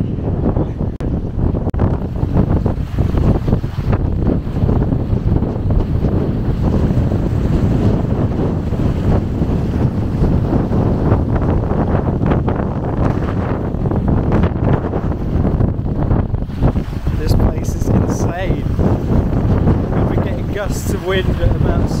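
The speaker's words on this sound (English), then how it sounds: "Wind at about 60 kilometers an hour." Strong wind of about 60 km/h roars across a hillside campsite on a Lairig Ghru hike, with continuous loud gusts buffeting the microphone and voices partly audible beneath.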